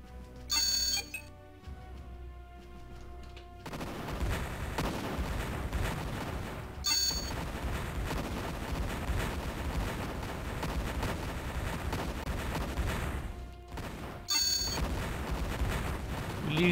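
Tank battle gunfire in the sci-fi strategy game Imperium Galactica rumbles as a dense, continuous barrage, broken by short bright electronic chimes and a few brief pauses.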